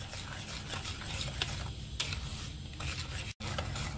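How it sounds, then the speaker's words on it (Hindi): Eggs and sugar are whisked in a bowl for a strawberry cake, with a steady rapid scraping and whirring that carries on throughout and stops briefly near the end, with no talking. "इन दोनों चीजों को कर लेंगे जी अच्छे से हम बीट, ताकि हमारी जो कंसिस्टेंसी है एग्स की और चीनी की बहुत अच्छे से फ्लफी फ्लफी हो जाएगी"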